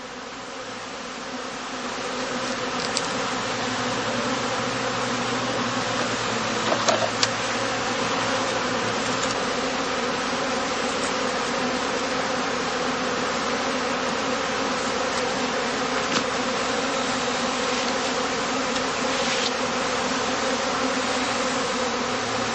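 Honey bees hum steadily from a heather skep apiary during the cast-swarming period, a dense continuous buzz that holds at an even loudness throughout, with occasional individual bees passing closer.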